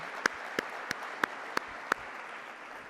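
A handful of isolated handclaps at an annual business meeting, about six sharp claps spaced evenly over a quiet room hum, sparse rather than a full round of applause.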